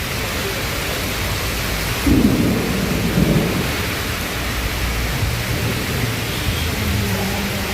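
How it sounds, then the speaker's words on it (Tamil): Heavy afternoon rain pours steadily in Kanchipuram while a deep roll of thunder swells about two seconds in and rumbles on beneath the constant hiss of the downpour. "மதியம் திடீரென மேகமூட்டத்துடன் இடியுடன் கூடிய கனமழை பெய்தது"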